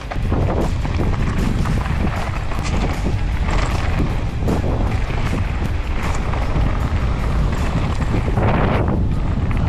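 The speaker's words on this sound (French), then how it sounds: "Ouah, il y a du vent." Strong wind gusts roar and buffet the microphone continuously on a mountain bike trail, loud and close, with rumbling bursts throughout.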